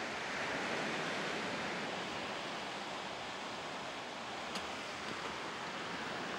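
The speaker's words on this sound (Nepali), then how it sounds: "सागरको दबावले लगातार उर्लिरहेको छालले चट्टानका भित्ताहरू पनि" Ocean surf pounds against rock walls in a continuous heavy wash of churning water, loud and close, a steady roar with no distinct breaks and no voices.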